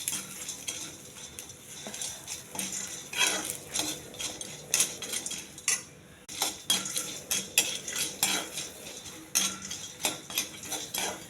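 Roasted gram, coriander and tamarind dry-roasting in an oil-free pan on low heat, with a spoon scraping and clinking against the pan in repeated stirring strokes over a faint sizzle.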